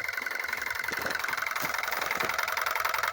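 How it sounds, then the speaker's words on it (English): A Harbour Freight tyre pump runs weakly on 60 watts of solar power while filling an air tank, giving a steady, rapid mechanical chugging that continues close by for the whole stretch. "is 60 watts of solar power going into a Harbour Freight tyre pump"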